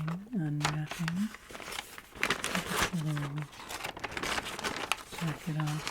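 Paper wrapping on a library book crinkles and rustles up close in soft, intermittent bursts, with a quiet voice murmuring between them.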